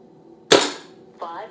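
An SMK Victory CP2 .177 PCP air rifle fires a single sharp, loud crack that decays quickly, followed about 0.7 seconds later by a softer, brief secondary sound.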